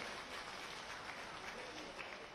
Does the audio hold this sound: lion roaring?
no